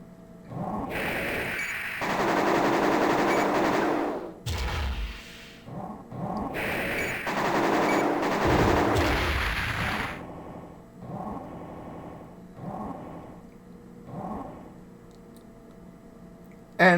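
Dense, heavy weapon fire and blasts from the mech game Armored Core as turrets are destroyed. Two long sustained volleys are followed by scattered shorter bursts, loud and roaring, with no talking.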